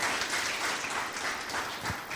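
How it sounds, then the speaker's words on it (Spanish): Church congregation applauding together in a steady, dense wash of clapping that fills the space throughout, fairly loud and continuous with no voices standing out. "le damos un aplauso bien fuerte al Rey"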